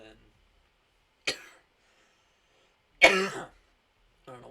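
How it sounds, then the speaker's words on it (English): A man coughs and clears his throat in two short, separate bursts during a podcast recording, with a faint third sound trailing at the end and near-silence in between. "I don't know why I'm coughing."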